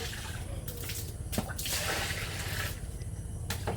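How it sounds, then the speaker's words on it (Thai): Plain water pours steadily into a cooking pot while making Thai tom yum fish soup in a home kitchen, a continuous close splashing and trickling with no talk over it. "นีแม่เทน้ำเปล่าเพิ่ม"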